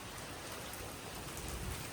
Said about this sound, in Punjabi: ਬਹੁਤ ਮੀਂਹ ਆ ਗਿਆ ਬਈ